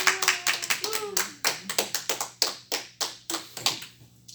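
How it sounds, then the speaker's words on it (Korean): A church congregation claps together in welcome, a steady run of sharp hand claps lasting several seconds, moderately close, with a little voice mixed in at the start. "우리 박수하겠습니다."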